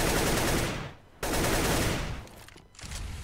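Gunfire in a CS:GO professional match, loud bursts of shots filling most of the clip with a brief gap near one second and another dip before the end, no voices.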